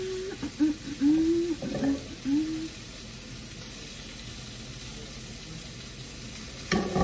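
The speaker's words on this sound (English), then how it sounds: "put your butter in there. You're going to just let that kind of melt up a little bit." Butter melting in a frying pan over medium heat, a soft, steady sizzle after some brief clatter at the start, with a short knock near the end.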